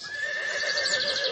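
A horse neighs in a single loud, close whinny with a wavering, trembling pitch, used as a short sound effect within a radio advert.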